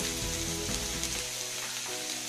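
Vegetables for veg hakka noodles sizzle steadily while being stir-fried in a pan, a dense, close crackle that runs throughout with no voices.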